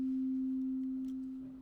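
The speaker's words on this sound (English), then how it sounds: "it's going to take 2 seconds for each cycle of this sine wave" A steady, pure sine wave tone from a live-coding workshop hums alone at a low pitch, holding evenly before slowly fading out at the end, with no talking.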